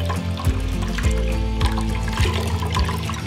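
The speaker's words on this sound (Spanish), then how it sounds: "Vamos a meter el cabellito a un bol y con el vaso de agua vamos a mojarlos." Water poured from a glass over wet curly hair held in a bowl, splashing and trickling close up in a few repeated pours with sloshing between them, no talking.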